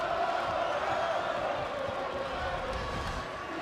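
Crowd at a Miami Ohio versus Eastern Michigan college basketball game, a dense steady roar of cheering filling the arena, with a commentator's voice mixed in.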